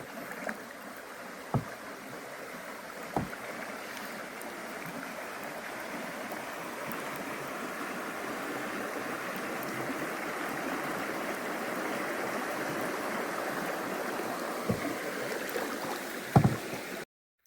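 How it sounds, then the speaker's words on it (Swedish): A small brook in Halland, Sweden, trickles and burbles steadily nearby after rain, with a few sharp knocks and splashes from close by. "Det var en riktigt fin liten bäck som rinner ut här."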